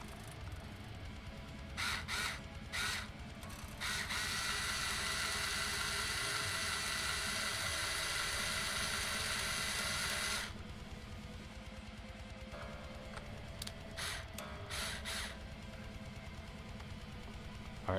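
A mechanical winder is wound with a steady, even whir lasting about six seconds, bracketed by short clicking bursts before and after, quiet and close against a low background hum.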